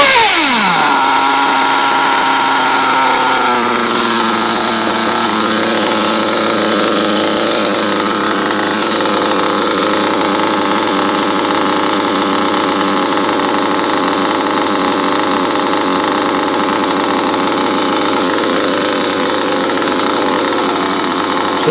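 A modded RC pico car's motor and gearbox, with a fast whine that climbs in pitch at the start, then holds a loud, steady, buzzing mechanical drone close up for over twenty seconds.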